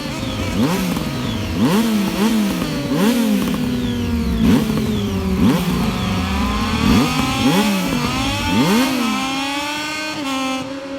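Motorcycle engines in the video game MotoGP 22 rev again and again, the pitch climbing and dropping in steady waves, loud and close with no talking.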